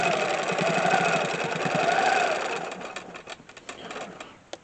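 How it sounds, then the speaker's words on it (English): Unique 15R quilting sewing machine with a stitch regulator running at a steady rapid whir and rhythmic needle clatter, close and loud, then slowing into separate ticks and stopping. "And this Unique 15R has a stitch regulator."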